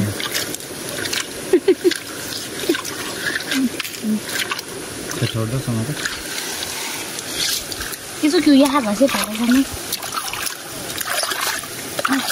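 A stream in a Lamjung village in Nepal trickles steadily through the whole stretch, a constant close watery wash with voices talking over it.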